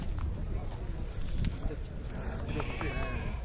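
Goats and sheep at a winter livestock bazaar, with a few bleats rising over crowd chatter and people talking nearby, plus scattered clattering and market bustle throughout.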